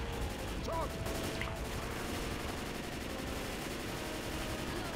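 Rapid, continuous light machine gun fire rattles through a Left 4 Dead 2 battle at Helm's Deep, a dense steady stream of shots at moderate distance with no break.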